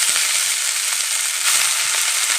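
Bathua greens dropped into sizzling garlic paste in a hot pan, a loud, steady crackling fry close up with a few soft stirring scrapes and no voices.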